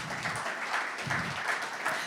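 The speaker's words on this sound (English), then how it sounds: "How about another round of applause for Matthew Bullard?" Audience applause at a pub talk, a short burst of clapping from a small indoor crowd, moderately loud with uneven pulses.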